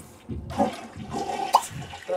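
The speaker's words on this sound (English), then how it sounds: "She needs to unclog the toilet." A toilet flushes in The Sims 3 after being unclogged, a quiet game sound of rushing, gurgling water with a few brief sharper splashes, fairly close and clear.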